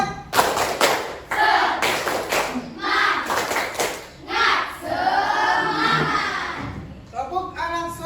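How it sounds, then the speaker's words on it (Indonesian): A group of students performing the tepuk semangat chant in class, rhythmic bursts of unison clapping alternating with loud shouted chanting voices, close and energetic. "Coba tepuk semangat"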